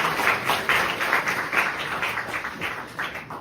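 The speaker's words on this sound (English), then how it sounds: "so give them a round of applause." Modest applause from a small audience at a DeSci NYC talk on dating and AI, with individual claps standing out in an uneven rhythm at moderate loudness.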